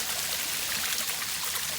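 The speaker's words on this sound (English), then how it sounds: "You put water here." Water is poured into a hydration system reservoir, a steady close, hissing pour that runs without pause through the whole short moment.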